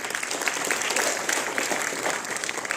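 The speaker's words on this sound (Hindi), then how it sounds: "और तालियां बजाइए, आपको बहुत धन्यवाद।" Audience clapping after a speech at an All India railway pensioners' welfare federation gathering, a steady dense patter of many hands sustained throughout at moderate loudness, with no talking over it.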